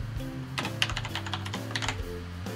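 Rapid clicky keystrokes on a SteelSeries Apex M800 mechanical gaming keyboard come in quick irregular bursts, close and clear, over faint background music with no talking.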